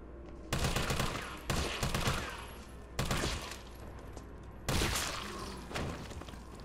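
Four loud, separate gunshot bursts go off about a second apart in Resident Evil 3 Remake, each a sharp crack with a fading tail, heard alone with no talk.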